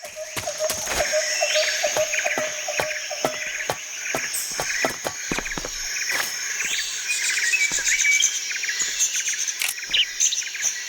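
In the jungle of the video game Metal Gear Solid 3, birds chirp repeatedly in quick, bright tweets. A continuous insect and cricket trill runs beneath them at a steady, moderate level with no talking.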